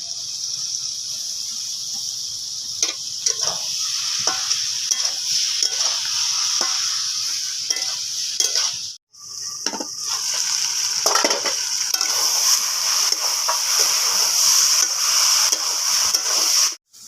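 Boiled cabbage with turmeric, tomato and salt stir-fries in a pan, a loud, bright sizzling hiss going on steadily with repeated scraping strokes, briefly stopping midway before resuming just as strongly.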